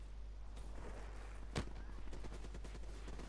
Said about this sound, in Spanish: Muchos tiros por detrás y no quiero ni saberlo